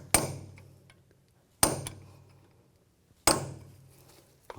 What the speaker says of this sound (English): I'm just going to take a punch and just peen over the edge of the nut.